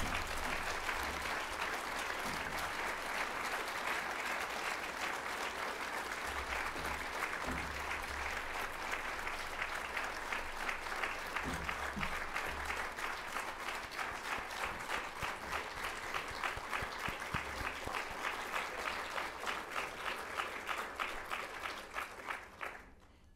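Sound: long audience applause after a lecture

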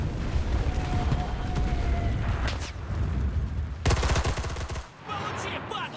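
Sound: gunfire from the video game Enlisted

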